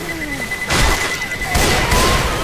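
In Left 4 Dead, a pipe bomb explodes with two loud, close booming crashes about a second apart, each followed by a crackling rumble amid the game's noise.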